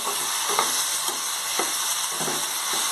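Magur catfish sizzles steadily in hot oil with spices, a constant close frying hiss broken by soft stirring scrapes at intervals, with no voices.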